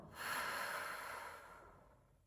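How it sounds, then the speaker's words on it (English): A single slow, deep exhale, airy and breathy, after a held breath during a guided calm-breathing exercise, close and soft, fading out over about two seconds with no talk. "Hold it at the top, and you can let it out through your nose or your mouth."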